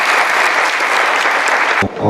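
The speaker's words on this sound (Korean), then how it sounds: "PTP플에게 다시 한번 큰 박수 부탁드리겠습니다" An audience gives a presenting team a loud, sustained round of applause at a student design presentation battle. The clapping cuts off abruptly near the end as a voice begins.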